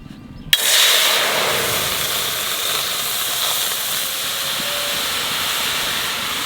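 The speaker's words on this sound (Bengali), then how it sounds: "এখানে টমেটোর পিউরিটা একটু জাল দিয়ে নেবো।" Tomato puree hitting a hot pan and cooking for a tomato papad recipe, a sudden loud sizzle that settles into a steady, continuous hiss close by with no talking.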